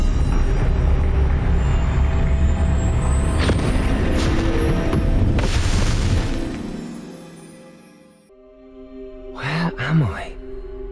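A Confringo fire spell explodes in Hogwarts Legacy as a loud, sustained rumbling blast with crackling debris that fades out, then a short magical shimmering effect follows.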